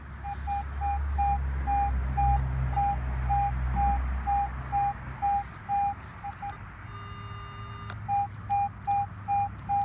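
A steady electronic tone pulses repeatedly from a metal detector at an abandoned 1890s house, switching pitch briefly, over a low rumble of passing traffic.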